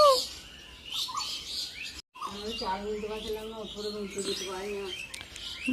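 Repeated Asian koel calls ring out nearby, bright and clear, while a person talks over them in the middle of the recording.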